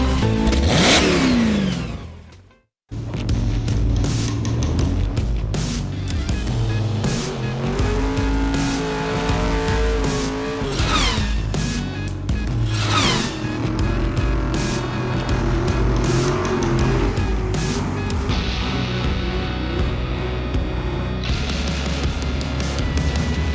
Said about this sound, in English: I can hear him burning rubber in his front room as we speak